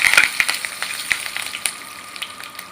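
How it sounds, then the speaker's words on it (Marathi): Cumin seeds and curry leaves sizzle in hot oil for a Marathi-style leftover chapati chivda, a steady close crackle with a few sharp pops early on that gradually settle into softer frying. "जिरं घालायचं। जिरं फुललं की त्याच्यामध्ये कढीपत्ता घालायचा।"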